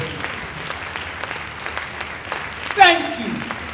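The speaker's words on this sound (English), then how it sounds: "Please keep applauding." An audience at a memorial service of songs for a high chief in Nigeria claps steadily under a speaker's voice, with a short louder burst of applause near the end.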